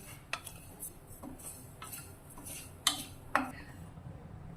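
Quiet scraping and occasional sharp metallic clinks of a spoon stirring cumin seeds roasting in a steel pan, spaced irregularly over a low steady background hum.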